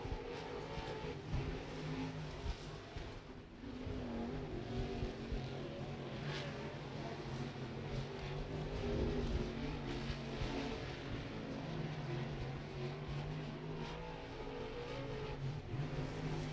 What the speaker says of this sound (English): Tyler Bear comes around for a second lap